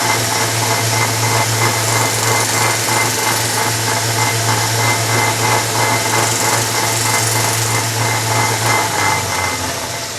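Belt sander running steadily while a knife blade is convex-sharpened against the belt, a loud close motor whine with a rhythmic rasping pulse as the blade is swiped, alone without talk.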